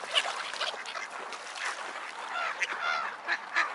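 A large bird calls with a series of harsh, honking, goose-like squawks, several bursts in quick succession, moderately close and heard without talk.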